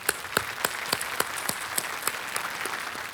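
The studio audience on the KBC quiz show claps in sustained applause, dense and fairly loud, with sharp rhythmic claps standing out at regular intervals.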